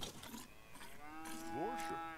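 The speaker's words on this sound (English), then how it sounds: "Watching someone milk a cow." A cow moos while being milked in The Sims 3, a single drawn-out bovine call that rises and bends in pitch, close and clear over quiet game background.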